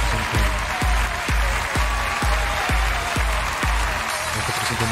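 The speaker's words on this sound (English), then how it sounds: "Make some noise for Reggie" Audience applause at The Game Awards, a dense, loud wash of clapping and crowd noise with rhythmic thumps underneath, continuous throughout.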